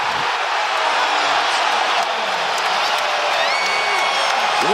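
Basketball arena crowd roaring and cheering after an alley-oop dunk in a Knicks game, a dense sustained wall of cheers and whoops holding steady throughout.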